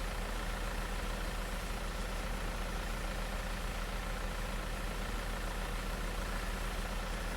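A worn farm vehicle's engine idles in a farming simulation game, a steady unbroken mid-low drone with no talking over it.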